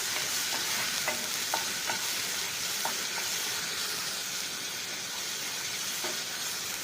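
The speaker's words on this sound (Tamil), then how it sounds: "ஒரு 2 நிமிஷம் வணக்கி விட்டுக்கலாம்." Ingredients for a capsicum roast sauté in a hot pan, a continuous loud hiss and sizzle close by, broken by a few light utensil taps, with no voices.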